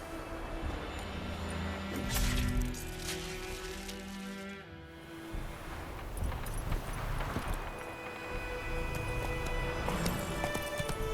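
Horses gallop in The Witcher 3, a steady run of hoofbeats with some rushing movement noise, fairly loud and close, with no talk over it.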